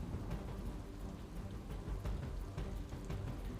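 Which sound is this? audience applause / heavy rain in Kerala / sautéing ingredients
heavy rain in Kerala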